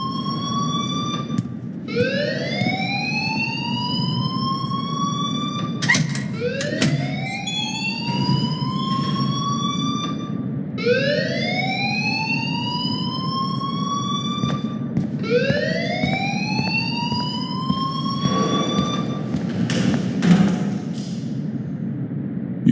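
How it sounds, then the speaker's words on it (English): Alarm ringing in the video game Life Is Strange, a rising, wailing siren that repeats in four sweeping cycles, loud and close, with some clattering between cycles. "please turn off that alarm since that's your job"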